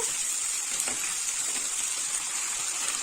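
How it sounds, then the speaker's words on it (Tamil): Tomatoes sautéing in a hot pan for horse gram (kollu) chutney give a steady, close sizzle that hisses evenly throughout with no one speaking. "தக்காளி போட்டு ஒரு நிமிஷம் போல் வதக்கினா போதும்"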